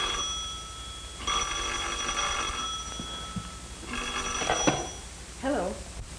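A telephone bell rings in an old classic film, sounding in two bursts of insistent ringing with a voice breaking in between them.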